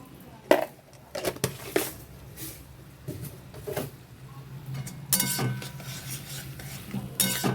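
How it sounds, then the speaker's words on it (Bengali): A spoon scrapes and clinks against a pan while spice masala is stirred and sautéed in oil, producing irregular knocks and scraping strokes over a faint, steady sizzle. "দিয়ে ভালোভাবে আরও কষতে থাকবো যতক্ষণ না তেলটা ছাড়ছে।"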